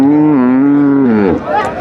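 A Friesian cow at the Raniganj cattle market in Dinajpur gives one long, loud, close bellowing moo that falls off toward the end, with faint crowd noise behind.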